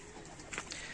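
Pigeons cooing close by, a brief soft coo that rises for a moment over quiet background noise.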